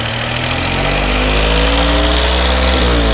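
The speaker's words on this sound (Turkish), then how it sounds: "Bak şu an egzoz patlak." A three-cylinder car engine with a blown exhaust runs loud and close, with a steady rough drone and slight uneven vibration throughout, no talking.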